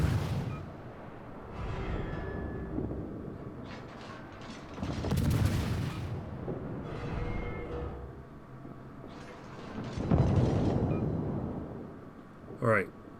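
Naval guns of a French Tier-2 destroyer firing in World of Warships, heavy booming salvos repeating every few seconds with rumbling tails, heard under a voice talking.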